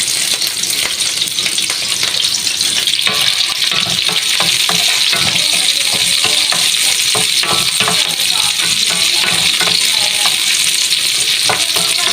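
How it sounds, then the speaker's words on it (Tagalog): Garlic and onion frying in a pan, a loud continuous close sizzle with frequent scraping and stirring clatter throughout, no one speaking. "Ngayon, nilalagay ko na yung garlic at saka yung sibuyas."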